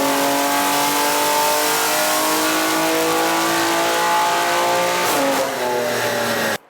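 A BMW G87 M2 engine runs at high boost on a dyno, holding a loud, sustained rev that climbs steadily in pitch before stopping abruptly at the end.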